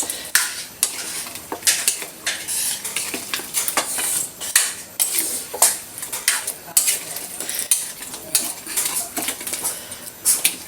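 Chunks of carrot and potato are stirred into a pot of beef rib kaldereta, giving repeated clattering scrapes and knocks of a utensil against the pot over a light sizzle, close and fairly loud with no talking.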